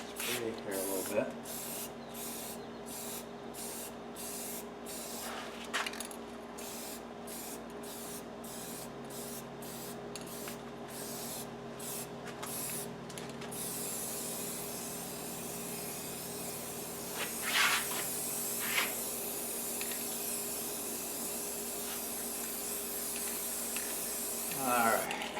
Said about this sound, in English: I'm trying to control my spray here a little bit.